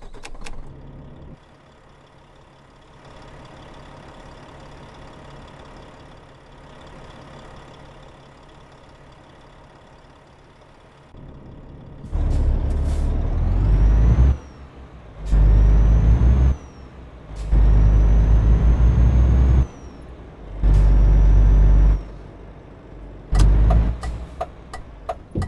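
In Euro Truck Simulator 2, a truck engine idles quietly, then revs up in several loud, rumbling bursts broken by sharp air-brake hisses and squeals toward the end.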